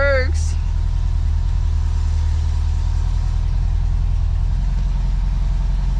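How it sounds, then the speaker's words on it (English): A 1977 VW Bus engine idles loud and close with a continuous low rumble, while a person talks over it. "That motor runs so good."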